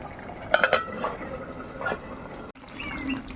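A lid goes onto a cooking pot of jackfruit curry with goat fat, with a few close metallic clinks and rattles, then quieter kitchen noise.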